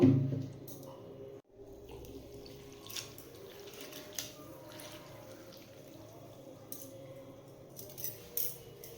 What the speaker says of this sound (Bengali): প্রথমে চিড়ের মধ্যে জল দিয়ে বেশ ভালো করে দু তিনবার জল পাল্টে পাল্টে ধুয়ে নেব